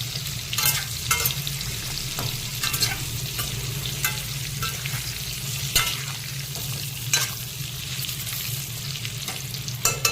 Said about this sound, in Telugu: పూర్తిగా సిమ్లోనే పెట్టి వేయించుకోవాలండి